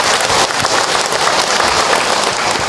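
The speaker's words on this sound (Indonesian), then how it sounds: "Tepuk tangan buat semua bunda yang ada." Dense, loud applause from a large audience at an Islamic religious lecture in Indonesia, continuous and even throughout, with no pauses or speech standing out.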